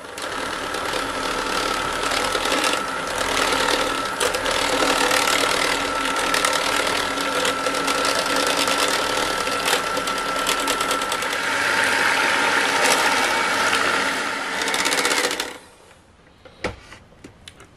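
An electric mixer whirs loudly and steadily for about fifteen seconds, beating cheese with cream in a bowl, with rattly knocking from the beaters. It then switches off, leaving a few soft clinks.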